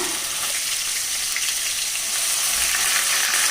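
Garlic sizzles steadily in hot oil in a pan, a continuous bright crackle close by with no voices over it.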